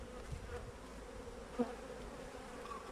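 Honeybees buzz in an overfull hive, a steady close hum carrying a brief soft knock midway.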